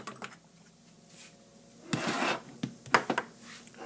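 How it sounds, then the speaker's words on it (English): A metal file rasping at the edge of a freshly drilled hole in a seat, a few short uneven scraping strokes with a longer burst in the middle, close by with no talk. "So we're going to file it now."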